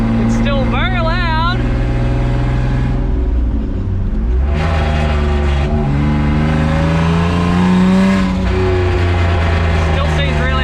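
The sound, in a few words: turbocharged car driving loudly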